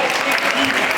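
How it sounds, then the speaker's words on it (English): Applause from the audience at a quiz competition's grand finale, with dense, steady clapping filling the room for a second at even, loud intensity. "Ladies and gentlemen, please clap for them"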